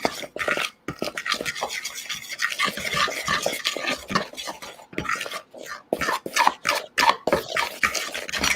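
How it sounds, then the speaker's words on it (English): Flour and cinnamon are mixed by hand in a bowl for dog-treat donuts, with close, irregular scraping and tapping strokes broken by short pauses. "We're just going to give this a quick mix to incorporate our dry ingredients."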